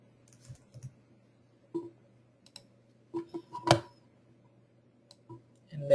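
Mouse clicks in CAD software on a computer, a few sharp isolated clicks scattered over a quiet background, with one louder click near the middle and faint desk noise between them.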